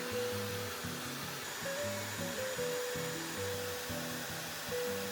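A Dyson hair dryer with a diffuser attachment blows on curly hair, a steady close airflow whine with a faint tonal hum and some shifting low rumble as the diffuser moves, no talking.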